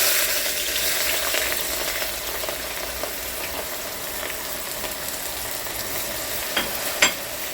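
Finely chopped onions fry in oil for a keema dish, a dense, even sizzle held close and loud for the whole stretch, broken only by a couple of faint clicks near the end and no speech.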